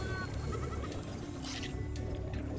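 Sheep bleating in the video game Spyro 2, faint and wavering under steady game ambience and music, with no one talking.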